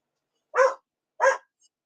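Two sharp, close dog barks about half a second apart, then silence.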